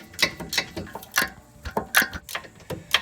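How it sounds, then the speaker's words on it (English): A thin ratchet fitted with a T50 Torx bit clicks in short bursts of quick, close pawl ticks while breaking a tight rear brake bolt loose on an Audi A4 or VW Passat. "Using the thinnest ratchet I could find, I was able to fit my T50 Torx bit and the head of the ratchet in there"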